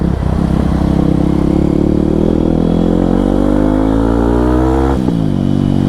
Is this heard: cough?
no